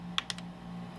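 A key press on an Azio Levetron Mech5 mechanical gaming keyboard with Cherry switches: two or three sharp, close clicks in quick succession over a steady low electrical hum, then quiet.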